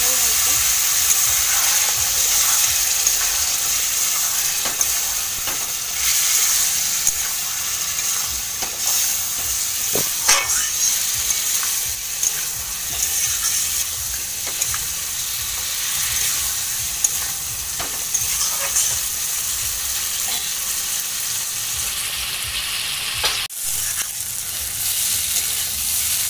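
An egg and potato curry frying with spices in a pan, a continuous sizzle and hiss under occasional scraping and clinking strokes from stirring, with someone talking faintly in the background.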